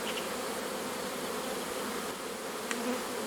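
A honey bee swarm hanging in a cluster gives off a dense, continuous buzzing drone, close and steady throughout with no voices.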